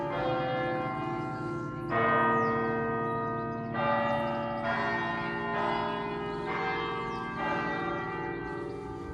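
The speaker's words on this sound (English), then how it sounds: "Do love a church bell." Church bells at York Minster ring out in a slow, regular sequence of resonant strikes, each tone lingering and overlapping the next, with no talking.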